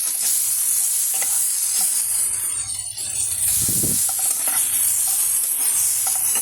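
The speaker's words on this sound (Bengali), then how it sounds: "আস্তে আস্তে ফ্রাই হচ্ছে আমার উচ্ছেটা" Bitter gourd frying in a pan, stirred now and then, gives a steady broadband sizzle throughout, with a louder scraping stir burst near the middle; close and continuous, no voices.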